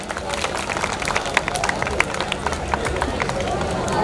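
Applause and scattered clapping ring out from an audience at a Gujarati family community get-together, dense and steady with sharp individual claps poking through for about four seconds.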